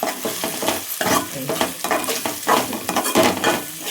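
Stirring a spicy egg fry mixture in a pan, with rhythmic scraping and clinking strokes of a spoon against the pan over a faint sizzle, close and fairly loud.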